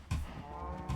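Minecraft cows mooing in the game world, two low moos, one at the start and another near the end, with a softer lowing tone between them and no voices.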